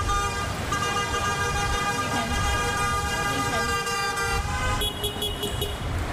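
Car horns sound continuously at a community rally for pedestrian safety, several overlapping tones held together, loud and sustained over street noise.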